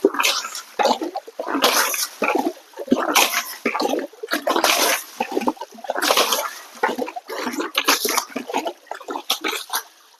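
Water sprays hard onto a Mahindra tractor being washed, loud bursts of hissing and splashing that start and stop in an uneven rhythm, close to the listener.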